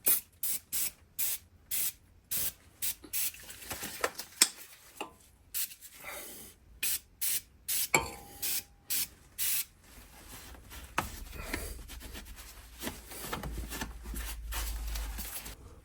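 Cleaner is sprayed onto a Range Rover L405 suspension knuckle in a rapid series of short sharp hissing bursts, followed by quieter rubbing and handling sounds.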